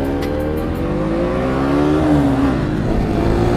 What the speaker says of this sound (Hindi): ये गाड़ी तो भाग ही रही है, 125 cc का है